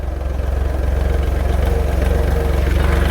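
A large farm tractor's engine runs steadily nearby, a loud continuous low throbbing rumble with a fast regular pulse and no change in pace, no talk over it.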